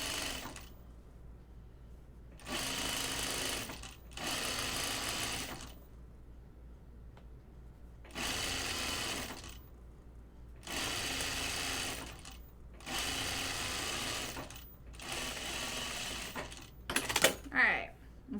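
Sewing machine stitching a pleat down a button-up shirt front, running in about seven short bursts of rapid mechanical whirring separated by quiet pauses, close and clear, with a few light clicks near the end.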